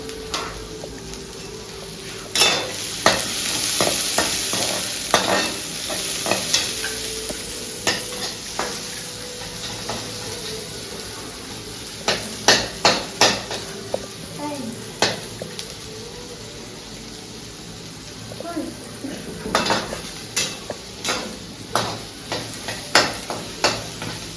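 Onion fries in a pan with cumin seeds, a soft steady sizzle under repeated sharp scrapes and clacks of a spoon stirring against the pan in bursts.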